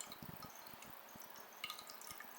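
Small stone rinsed under running tap water over a kitchen sink gives faint, close drips and light splashes with soft irregular trickling throughout.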